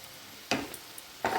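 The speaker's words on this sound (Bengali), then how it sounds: "প্রায় 5-7 মিনিট লো ফ্লেমের উপরে এগুলোকে কষাবো" Kashmiri chili powder, turmeric and salt hit a hot pan for a Bengali-style vegetarian aloo dum, giving two short bursts of sizzling a moment apart with quiet between them.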